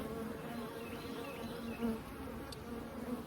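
Honey bees buzz at an opened Layens hive during an inspection in Holts Summit, a steady, close, dense drone with no talk over it.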